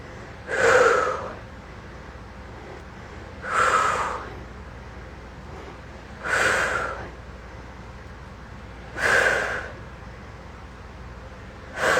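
Forceful, rhythmic exhales from someone doing a lifting exercise, four loud breathy bursts spaced about three seconds apart, close to the mic over a low steady background.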